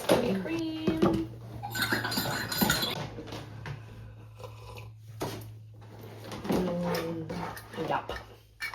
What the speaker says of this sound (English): I have my son below me playing in the Tupperware.